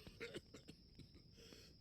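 In the video game Dead Synchronicity, a man coughs and clears his throat in a few quiet, rough bursts over a faint steady hum.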